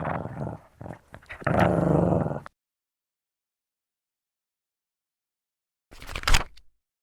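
Pug sound effect in a children's phonics story, a close rough growling and snorting burst, then silence, then one short loud growl-bark near the end.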